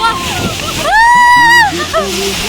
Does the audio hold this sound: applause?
no